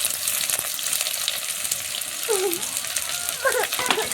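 Onions frying in a hot pan with cumin seeds, a steady close sizzle throughout with a few brief scrapes and clinks partway through.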